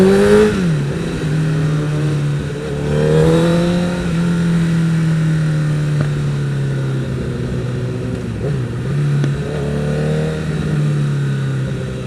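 A Kawasaki ZX10R sport motorcycle is ridden with its engine revving up and dropping back through gear changes, a continuous close whine and growl that rises and falls.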